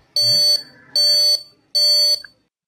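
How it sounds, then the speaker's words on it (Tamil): A wireless water tank level indicator sounds its tank-full alarm: three loud, evenly spaced beeps, each a sustained high-pitched tone about half a second long. "இப்போ அலாமும் அடிக்குது ஃபாஸ்ட் பீப்."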